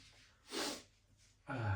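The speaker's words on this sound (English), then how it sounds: "Excuse the sniffing, that hasn't changed in all these years." A person sniffs twice in a gym between sets, two short airy bursts of breath through the nose, close and quiet with a pause between them.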